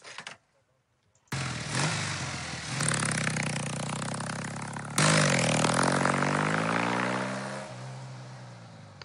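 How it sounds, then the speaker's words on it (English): Old Norton motorcycle engine running alone after a brief silent start, a steady rumbling thump with harmonic overtones that swells louder midway and then settles as the revs ease off near the end. "Motorcycle and old Norton."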